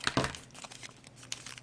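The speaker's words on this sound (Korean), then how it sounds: "가위로 자르고" Paper being cut with scissors while making a paper build robot, a few quick crisp snips and crinkles, the loudest near the start, then lighter rustling close up.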